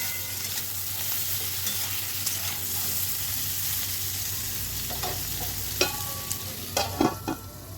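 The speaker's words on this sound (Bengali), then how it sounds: "এঁচোরটা কিন্তু এখন ভাজা হয়নি লাল লাল করে ভাজতে হবে" Raw jackfruit frying in a pan with salt and turmeric, a continuous close sizzle with scraping stirs and a few sharper clatters of the spoon toward the end.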